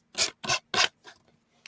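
Sandpaper rubbed over the dried edges of glued rice paper on a Halloween craft piece: three firm, close rasping strokes in quick succession, then a couple of lighter, fainter scrapes with short pauses between.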